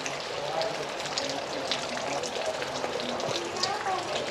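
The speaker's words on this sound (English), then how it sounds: "Raining hard today." Heavy rain pours outdoors on a cold day in Central California, a dense, steady hiss of falling water with scattered drips, while a person talks over it.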